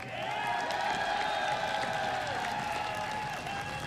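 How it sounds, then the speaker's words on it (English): Crowd at a League of Legends esports final clapping and cheering for the winning team, a broad wash of applause with steady tonal sounds running through it. "First of all, round of applause."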